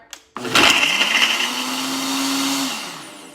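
A Nutri-Ninja Auto IQ blender starts up after a sharp click, its motor surging loudly into a harsh whirring roar, then settling into a steadier hum with a thin tone before easing down.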